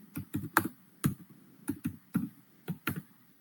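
A computer keyboard clacks while Python code is typed, about a dozen crisp, close keystrokes in quick irregular bursts with brief pauses between them, alone in a quiet room.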